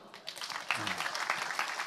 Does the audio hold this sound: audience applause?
yes